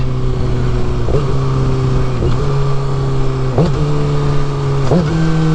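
A nearby car engine in traffic drones steadily, its pitch dropping and jumping at several gear changes as it downshifts and revs, with no talking.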